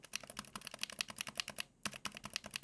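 Close-up mechanical keyboard typing, a rapid run of crisp clacky keystrokes with a brief pause, each press carrying a bright metallic rattle.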